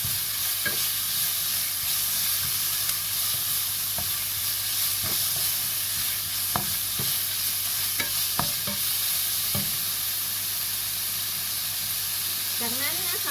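Chicken stir-frying with garlic and pepper in a pan for ginger chicken, a continuous loud sizzle with scattered clinks and scrapes of a spatula, close and steady for the whole stretch.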